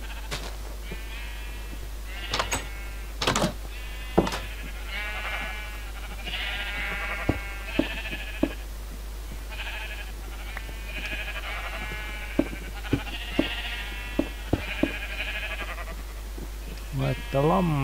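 Sheep bleating in a sheep pen in the video game Minecraft, many repeated close bleats overlapping across the whole stretch, with sharp clicks between them and a steady low hum underneath.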